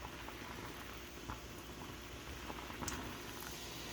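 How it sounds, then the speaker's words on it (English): Water boils steadily in a pot during a home science experiment, a soft continuous bubbling hiss with faint pops, alone and fairly quiet. "Now it's boiling again."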